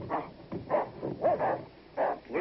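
A Rottweiler barks repeatedly behind a closed door, five or six muffled, mid-loud barks in an uneven rhythm with short gaps between them, and no one speaks.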